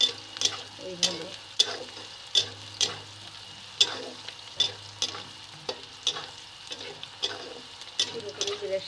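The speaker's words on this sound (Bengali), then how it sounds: "পেঁয়াজগুলো একটু ভেজে নেব, একটু হালকা লাল লাল হবে।" Sliced onions and lentils frying in oil in a pan, a low steady sizzle punctuated by regular sharp scraping strokes of a spatula, roughly two per second, close and moderately quiet.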